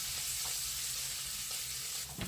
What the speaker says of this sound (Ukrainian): Ось сало майже розсмажилось. І це ми будемо смажити на великому вогні.